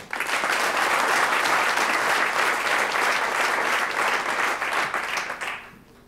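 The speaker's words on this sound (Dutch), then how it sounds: "Dames en heren, mag ik een groot applaus voor Miel Spreeuwenberg." Audience applause at a Starter of the Year awards evening in Venray, steady and full for about five seconds before tapering off at the end, with no talk over it.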